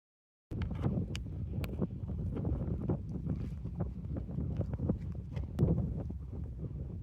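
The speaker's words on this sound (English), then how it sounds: "It's windy." Wind gusting outdoors at a backpacking campsite, a steady buffeting rumble on the microphone with brief flapping and rustling bursts, close and without talk.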